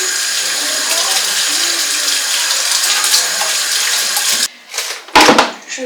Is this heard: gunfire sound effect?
no